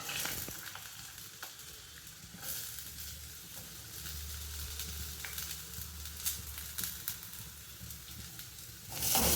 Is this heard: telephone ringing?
no